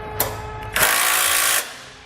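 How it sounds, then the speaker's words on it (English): Close, loud power-tool whir as an 18mm socket tightens trailer hitch bolts on a 2009 Volkswagen, a short burst followed by a sustained run of about a second that cuts off. "Once we have all of our hardware in place, we'll go ahead and tighten them up. We're going to use an 18mm socket."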